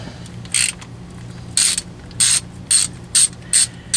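A ratchet clicks in six short, loud bursts while backing out half-inch bolts on a Jeep 44RE automatic transmission pan, each burst a quick run of clicks with brief pauses between, close up with no talking.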